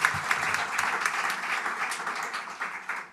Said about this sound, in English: So big round of applause, everyone.